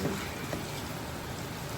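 Steady, even rain falling outdoors on a day of nonstop heavy rain, a soft continuous hiss of drops on surfaces heard alone without talk.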